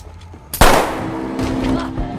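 A single sharp, loud gunshot bursts out in a film scene after a quiet moment, followed by a ringing, rumbling tail and scattered lesser noises.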